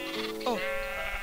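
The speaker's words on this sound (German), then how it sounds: "Ah, ich habe mir soeben ein hellblaues Schäfchen gepaart." A sheep bleats in the video game Minecraft, one short wavering bleat, near and clear, over a soft steady game background without talk.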